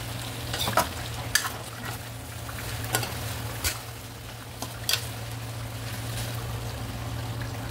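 Garlic and onion sautéing in hot cooking oil, a steady sizzle punctuated by several sharp clinks of a utensil against the pan, with no one talking.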